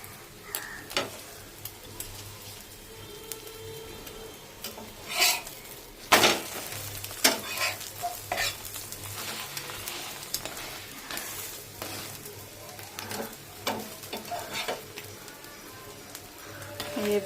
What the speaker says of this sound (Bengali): এই ভাজা হয়ে গেছে